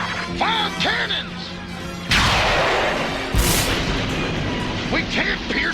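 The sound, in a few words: cannons firing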